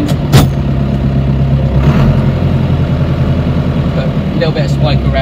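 A John Deere 2140 tractor engine runs at a steady low idle-like throb with slight revving, pulling slowly in a low gear, loud and continuous throughout.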